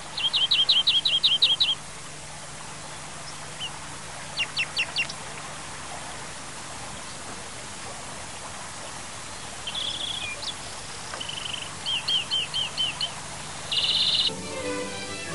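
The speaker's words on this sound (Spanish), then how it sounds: "Es uno de los primeros pájaros cantores que en febrero ejercita sus gorjeos y trinos agradables." European goldfinch song arrives in short bursts of bright, rapid twittering trills and chirps, separated by quiet gaps over a faint steady background hum, clear and fairly close.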